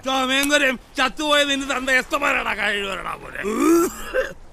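A man forces out an exaggerated, voiced throat clearing and cough in several strained, groaning bursts, loud and close, with short breaks between them.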